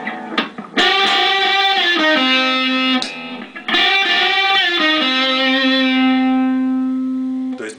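A Cort KX5 electric guitar with two humbuckers and a push-pull tone knob plays distorted chords, each strummed and left ringing with sustained, loud tones that slowly decay, alone without talk.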